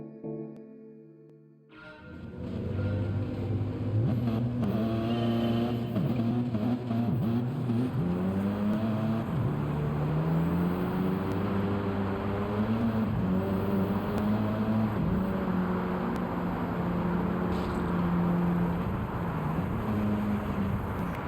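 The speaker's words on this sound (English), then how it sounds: "You guys want to see the revs on this too," Racing car engine revving hard and holding high revs on a lap of a night run winter series event, loud and continuous with shifting pitch for about twenty seconds, close to the microphone.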